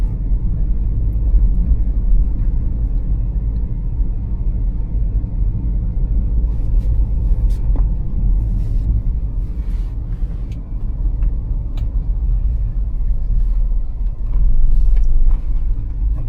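Hyundai i10 engine pulling away after the clutch comes up, a continuous low rumble heard from inside the car with faint clicks and taps over it, rising slightly near the end.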